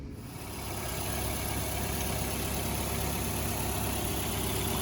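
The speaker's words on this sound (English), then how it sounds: "at this point we got the engine idle" A 2.5L Nissan Altima or Sentra engine (2002-2006) idles steadily after a thermostat replacement, a low continuous rumble with a faint hiss on top, close by and unbroken, with no voices.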